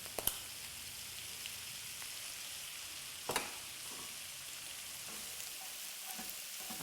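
Onions with turmeric and ground cumin frying in a pan, a soft, even sizzle with a few light stirring clicks and scrapes, fairly quiet and steady throughout.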